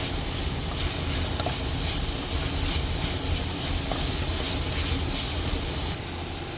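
Onions cooking in a pot give off a steady, loud sizzle and hiss, close and continuous with faint bubbling, with no talking.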